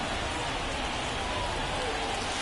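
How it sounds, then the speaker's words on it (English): Rain pours down on a ballpark in the baseball video game MLB The Show 23, a steady, dense hiss of falling water that stays constant from start to finish without distinct individual drops. "This rain is not letting up"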